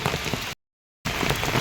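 Heavy rain pours down in Khed taluka, Ratnagiri, a loud dense hiss of drops striking surfaces that cuts out briefly to silence midway and then resumes just as strongly.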